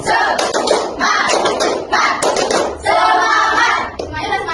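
Schoolchildren in an elementary school classroom clap hands in a rhythmic spirit clap, a loud, dense burst of many hands in quick patterned bursts, filling the room.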